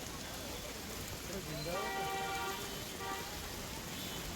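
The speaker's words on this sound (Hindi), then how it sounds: "तो अजमेर में लगातार बारिश का कहर देखने को मिल रहा है।" Heavy rain pours steadily onto flooded streets in Ajmer, a dense, even hiss. A vehicle horn toots briefly partway through.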